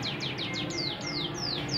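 A small bird chirps in a rapid series of short, sweeping high tweets. The calls are close but fairly soft, over a low background hum.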